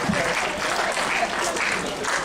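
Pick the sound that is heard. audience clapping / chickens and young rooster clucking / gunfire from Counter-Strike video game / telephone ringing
audience clapping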